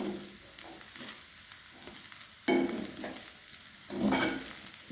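Sago cooks on low heat in a pan, giving a quiet, soft sizzle, with bursts of scraping and stirring from a spoon at intervals.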